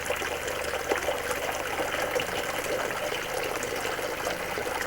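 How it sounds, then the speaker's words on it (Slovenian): Water trickles slowly at an old farmstead homestead, a steady, close babbling flow with a gentle splashing texture, continuous and alone without voices. "Voda crlja, počasi, počasi,"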